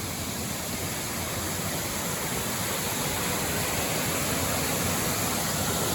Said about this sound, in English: A little waterfall action